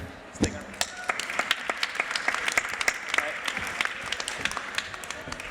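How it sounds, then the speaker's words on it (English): A conference audience at a tech inclusion panel in San Francisco applauds itself, a steady patter of many hands clapping throughout, moderately distant with a few sharper claps standing out. "how about a round of applause for yourselves"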